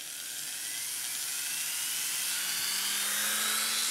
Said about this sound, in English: You're going to need a drill and you're going to need a